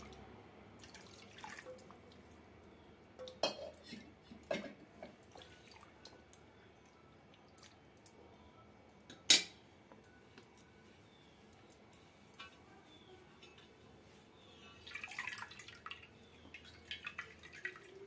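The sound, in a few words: washing chhena with clean water for rasgulla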